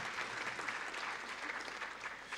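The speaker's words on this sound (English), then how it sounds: "let's give them all a round of applause for working together" Audience at an education summit applauding, a dense, steady wash of clapping from a crowded room that holds evenly throughout.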